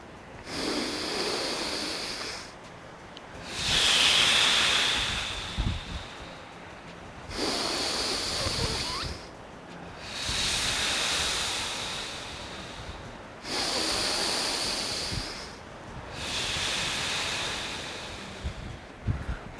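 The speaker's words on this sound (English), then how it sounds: "Inhale through the nose, exhale through the mouth." Deep breathing during a mobility and strength workout, drawn in through the nose and blown out through the mouth: about six slow, loud, airy breaths in steady rhythm, close to the microphone with no talk.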